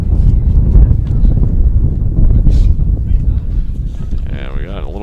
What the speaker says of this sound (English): And we got a little gusting wind now, Tim.